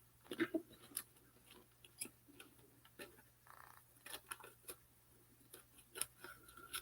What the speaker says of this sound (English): I'm going to cut right here